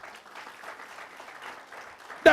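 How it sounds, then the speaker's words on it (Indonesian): Church congregation applauding during a sermon, a soft, steady patter of clapping that sounds fairly distant, ending with a sudden loud burst. "beri tepuk tangan buat Tuhan, saudara"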